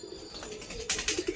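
Pigeons coo softly nearby, a Sri Lanka breed male and a Fulsira female kept together while raising chicks, with a few low rounded coos toward the end over a faint background hiss.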